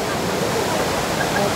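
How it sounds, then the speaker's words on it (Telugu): Kempty Falls, a waterfall near Mussoorie in Uttarakhand, heard from a bridge above the water: a steady, dense roar of falling and rushing water that fills the whole short stretch without a break. "this is Kempty fall"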